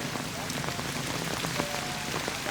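Steady rain pours at a water gate clogged with thick trash, a dense continuous hiss of drops on water and surfaces, with faint voices underneath.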